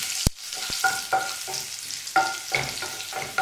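Cumin seeds fry in a pan for baingan bharta, with a sharp clack at the start, then bursts of crackling sizzle and spatula scrapes in an uneven rhythm, close and without talk.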